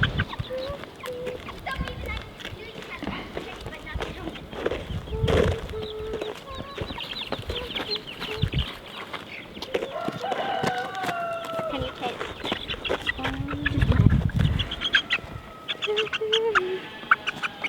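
A flock of olive egger and speckled Sussex chickens cluck and call in scattered bursts nearby, with a rooster-like crow and people talking over the birds.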